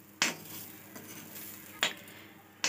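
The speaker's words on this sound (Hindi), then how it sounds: "धीमी आँच पर हमें लगातार इसको चलाते रहना है।" A spoon stirs momo masala in a pan over a low flame, with three sharp scraping clinks against the metal spaced about a second and a half apart over a faint, soft sizzle.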